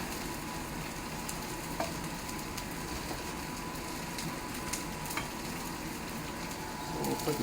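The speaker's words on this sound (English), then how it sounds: "So we'll put the onion in" Onions frying in a hot cast iron pan, a steady dense sizzle with soft crackles running throughout, close and fairly loud, with a brief stirring scrape near the end.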